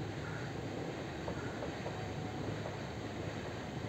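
A train passes with a steady, continuous rumble of wheels on rails, moderately loud and unchanging throughout, with faint rhythmic clatter and no voices.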